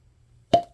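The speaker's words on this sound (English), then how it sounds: "Why do the synthetic corks pop better?" A synthetic cork pops out of a bottle of Hendrick's Flora Adora gin in a single sharp, close plop with a brief ringing tail, after near silence.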